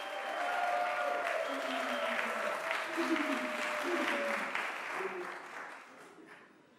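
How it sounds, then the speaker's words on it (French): Sustained applause from a studio audience on a French-language television show, a dense steady wash that fades out over the last couple of seconds, with a faint tonal element and voices murmuring underneath. "La première qui va nous rejoindre, c'est Modestine, que je vous demande d'applaudir."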